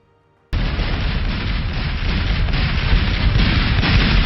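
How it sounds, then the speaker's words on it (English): Real cannon fire from the 1993 Civil War film Gettysburg: a sudden loud artillery blast breaks the silence and rolls into a continuous heavy roar of booming fire that builds slightly over several seconds. "Those thunderous cannon blasts weren't created by sound effects."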